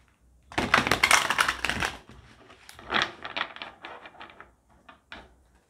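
Oracle cards being shuffled and drawn by hand: a burst of dense riffling flutter, then lighter irregular card slaps and flicks, close and fairly quiet, with no talking.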